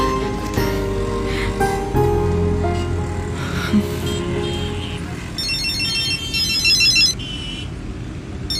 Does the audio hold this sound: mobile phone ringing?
yes